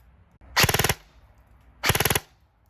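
Matrix Sportsline M4 airsoft rifle with a G2 gearbox firing two short full-auto bursts of about seven or eight rapid, loud, close shots each, separated by a brief pause.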